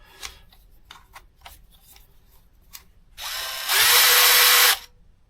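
A Craftsman 20V brushless cordless drill driver spins up with a rising whir, then runs at a steady, loud high-speed whine for about a second before stopping, after a few faint handling clicks.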